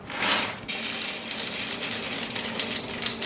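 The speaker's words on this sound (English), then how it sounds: "We'll go ahead and start with some beans." Dry beans pour into a mason jar, a dense rattling patter of small hard pieces hitting glass that starts with a brief louder burst and then keeps up as an even clatter close by.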